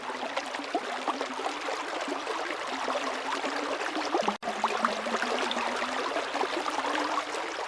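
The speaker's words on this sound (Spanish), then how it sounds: "escuché el rumor de un arroyo" A stream murmurs steadily in a quiet cave-like setting, a continuous soft rushing and trickle of water that stays even throughout, with one brief dropout partway.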